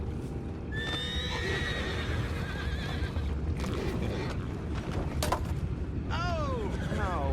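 Hooves clatter as a horse in Red Dead Redemption 2 whinnies twice, once early and once near the end, alongside some sharp bangs.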